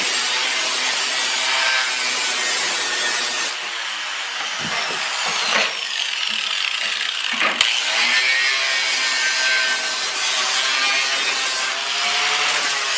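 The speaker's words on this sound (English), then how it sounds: "we're going to take the Benchmark Abrasives flap disc and just run over the edge," A Benchmark Abrasives flap disc on an angle grinder runs along the cut edge of a wooden board, giving a loud, steady abrasive rasp for most of the stretch, broken by a few short gaps as the disc lifts off the wood.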